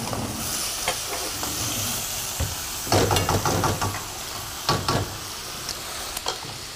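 Food fries in a pan with a steady crackling sizzle and hiss, broken by louder bursts of stirring and scraping, close up with no talking.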